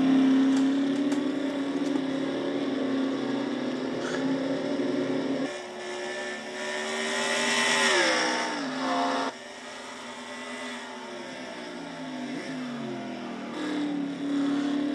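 Loud race car engines roar and shift pitch continuously at Road America during a NASCAR Nationwide Series race, dipping and rising as the cars brake and accelerate through a tight corner, with no talking.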